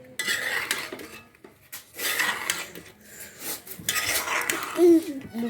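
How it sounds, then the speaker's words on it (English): A spoon scraping and clanking against a metal cooking pot while macaroni and stew are stirred, coming in close, irregular bursts with short pauses between. "I've just put in my macaroni. I'm mixing it now. Let me add the stew."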